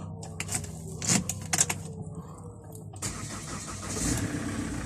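A Holden Captiva's engine cranks briefly with a couple of sharp mechanical clicks, then catches and settles into a steady mid-pitched idle, heard close up after a quiet pause.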